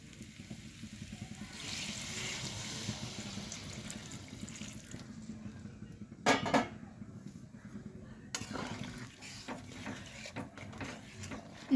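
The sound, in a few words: hot water poured into potatoes in a pan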